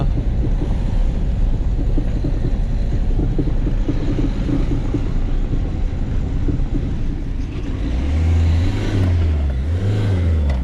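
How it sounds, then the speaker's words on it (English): A car rolls down a high street on flat tyres, a loud continuous low rumble with road and wind noise throughout and a wavering low drone swelling toward the end, no talk. "Driving down through a high street. Flat tyres,"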